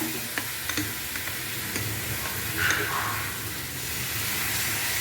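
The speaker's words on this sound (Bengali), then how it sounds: "এই পেঁয়াজের মধ্যে আদা, রসুন, টমেটো সব এগুলো পেস্টটা আমি এর মধ্যে ঢেলে দিলাম" Onion, ginger, garlic and tomato paste sizzles steadily in hot oil in a pan, with a few soft scrapes and clicks of stirring over a continuous frying hiss.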